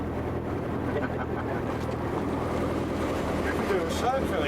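An inland boat motors slowly along, giving a steady low engine rumble with water washing around the hull and some wind noise, continuous and fairly close.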